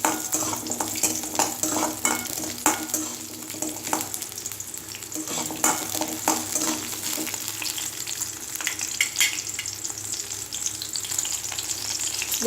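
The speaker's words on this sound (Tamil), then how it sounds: "இப்போ இதில் பட்டை, கிராம்பு இதெல்லாம் போட்டு லைட்டாக ஃப்ரை பண்ணிக்கலாம்." Cinnamon, cloves and onion fry in hot oil for a Kerala kadala curry, a continuous close sizzle under frequent stirring scrapes and clinks of a spoon against the pan.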